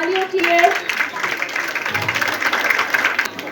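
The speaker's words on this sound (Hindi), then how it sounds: "जोरदार तालियां सारे मंच पर।" An audience at a children's performance event on stage claps steadily in a moderate, scattered round of applause, with a voice speaking over it.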